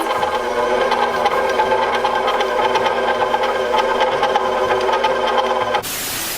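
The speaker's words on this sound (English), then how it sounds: "I'm going to turn it on low speed. That way it starts to mix together" An electric stand mixer runs steadily on low speed, beating butter, salt and sugar in its bowl, a continuous mechanical whir with a rhythmic knocking pulse, close and fairly loud, cutting off abruptly near the end.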